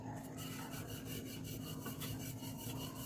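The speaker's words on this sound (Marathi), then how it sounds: "आणि दोन्ही साईडनी लाटून घ्यायची आपण पोळी." Mango puran poli dough being rolled out with a rolling pin, a soft continuous rhythmic rubbing and rolling sound close by, repeating back and forth with no talking.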